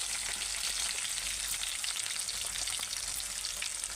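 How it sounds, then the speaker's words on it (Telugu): Onions frying in a pan with curry leaves and green chillies until they turn reddish, for an egg and potato rice dish. A dense, steady sizzle crackles evenly and continuously, close and moderately loud, with no voices. "ఉల్లిగడ్డలు ఇలా ఎర్రగా వేగాలి"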